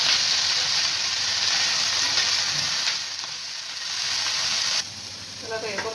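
Masala roasts on a hot tawa for a hotel-style cauliflower masala, giving a continuous bright sizzle and hiss that dips briefly midway, with faint clinks of stirring near the end.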